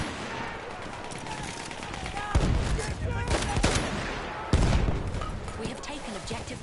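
Machine gun fire in a video game: a distant, steady rattle of rapid shots runs throughout, broken by two heavy, close blasts, while game voices talk faintly beneath.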